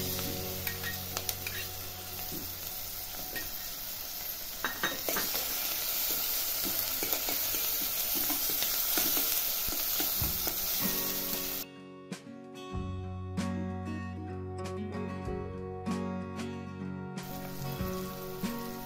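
Finely chopped tomato sizzles and fries in a pan while matki usal cooks, a steady close hiss with stirring scrapes, ending in a quieter stretch with scattered clinks.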